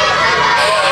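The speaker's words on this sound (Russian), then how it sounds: "Вся эта толпа ждет" A large crowd waits before a performance by a popular video blogger on a stage in Odesa, a dense, loud wash of overlapping voices and shouts filling the space without letup.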